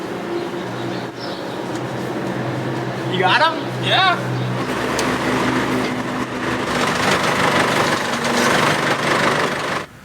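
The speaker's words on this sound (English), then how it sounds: "Truck coming." A truck pulls up and its engine idles with a steady low rumble close by, while people exchange a few brief words over it.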